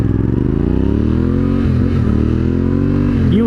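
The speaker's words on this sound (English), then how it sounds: "This is my first time splitting lanes on the Yamaha T7, the Tenere T7." A Yamaha Tenere T700 motorcycle splitting lanes on a freeway, its engine humming loud and close in a steady drone with slight shifts in pitch as the revs rise and fall.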